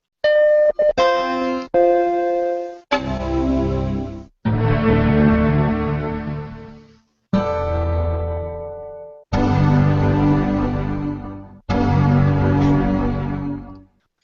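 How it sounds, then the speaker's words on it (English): Several separate bright, swelling Macintosh startup chimes ring out one after another, each sustained for a few seconds and then fading, loud and clear with short gaps. "that's the Macintosh wake-up sound"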